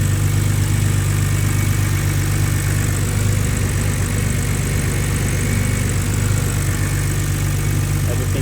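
A BMW N52 engine idles just after a cold start, a deep, even rumble with steady mechanical ticking, close and continuous, while a voice is faintly heard over it.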